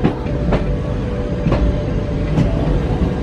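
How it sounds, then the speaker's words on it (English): A military train carrying tanks rumbles past close by while driving from Jammu to Kashmir, a steady loud roar with rhythmic clacks of wheels over rail joints. "We're going by a military train with at least 50 tanks on it."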